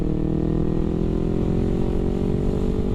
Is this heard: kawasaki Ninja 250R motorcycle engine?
yes